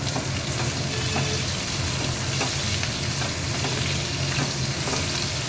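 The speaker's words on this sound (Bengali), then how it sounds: "গোলমরিচ, নুন, বেকিং সোডা দিয়ে যে রেখেছিলাম ওটা ভাজবো" Cauliflower coated with black pepper, salt and baking soda frying in hot oil, with a dense continuous sizzle and occasional stirring taps throughout, close and unbroken.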